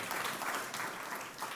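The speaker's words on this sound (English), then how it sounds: "Please give Rachel a round of applause, everyone." Audience applause for a speaker named Rachel at a community food-access event in North Carolina, a steady wash of clapping that holds at a moderate, fairly distant level for its short length.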